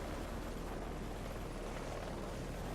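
A helicopter in the video game Heliborne flies with a steady, dense rotor and engine roar, continuous and even throughout.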